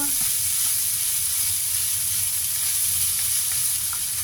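Leftover larb fried rice stir-fried in a pan, with a steady close sizzle and a faint scrape of stirring running throughout, and no voices.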